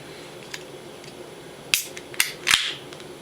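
A bottle of True Respite Onyx Realm Russian imperial stout beer opens with a few sharp pops and hissing bursts of escaping gas, loud and close against a quiet background.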